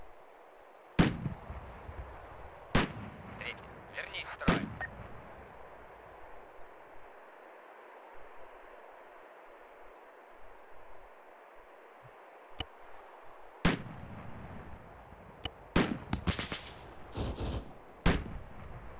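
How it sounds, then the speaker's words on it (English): Scattered heavy booms of artillery fire in ARMA 3, with sharp blasts spread irregularly across a long stretch over a low rumble. Several come in a quick cluster near the end. "Calling some artillery on too."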